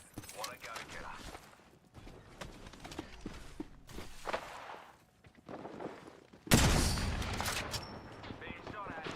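Apex Legends gunfire in a ranked match: scattered shots and bursts crackle throughout, then a louder, dense volley erupts near the end, with a player talking over parts of it.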